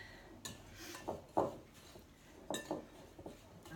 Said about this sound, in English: And get that all stirred in.